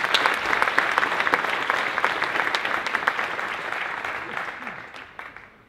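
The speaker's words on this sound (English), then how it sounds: "If you give him a big applause," An audience at a talk on clean drinking water applauds steadily. The dense clapping is loud at first and slowly fades over several seconds.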